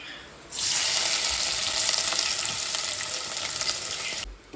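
A large amount of chopped onion dropped into a hot pan after frying coconut, bursting into a loud, steady sizzle that holds for about four seconds before cutting off, close up with no talking.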